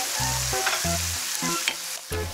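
Onion and garlic frying together in a pot for a simple miki noodle dish, a steady sizzle broken by short bursts of stirring and scraping, with no talk.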